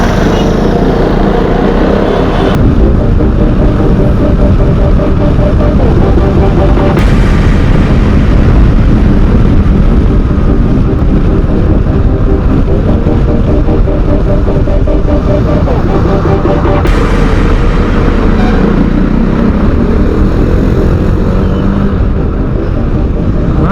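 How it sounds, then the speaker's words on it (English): A KTM 390 Duke motorcycle roars along a highway, a loud, continuous engine drone mixed with heavy wind noise and a few gear-shift changes in pitch. "This 390 is fun to ride."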